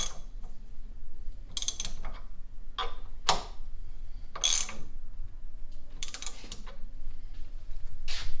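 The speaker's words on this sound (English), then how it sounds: "We're going to back our torque wrench down to 45. This is a snap-on torque wrench." Snap-on torque wrench ratcheting on the rod bolts of a 1967 GTO 400 engine rebuild, several short bursts of close, crisp clicking separated by pauses.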